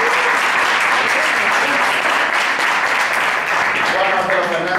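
Loud, steady applause from a lecture audience at a sports nutrition talk on elite athletics, continuous clapping filling the whole stretch without a break.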